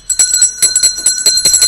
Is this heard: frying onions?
no